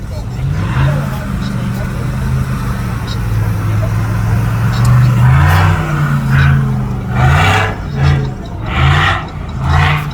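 A car revving and spinning its wheels in snow during a severe Tennessee winter storm, the engine roaring in repeated surges with rising and falling pitch, fairly near, with people talking over it.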